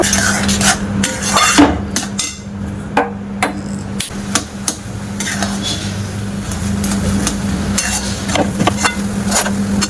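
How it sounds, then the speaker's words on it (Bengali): Semolina is stirred into a pot of ripe palm fruit pulp, the spoon knocking and scraping against the pot in irregular, close clacks over a low steady background, with no talking. "সুজিটা আমি তালের মধ্যে দিয়ে দেবো। দিয়ে ভালো করে নাড়াচাড়া করে নেব।"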